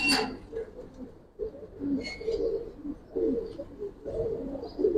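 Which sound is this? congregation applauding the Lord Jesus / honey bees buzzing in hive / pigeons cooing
pigeons cooing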